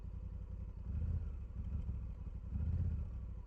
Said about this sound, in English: I'm going to turn the engine off and go through what we have on the bike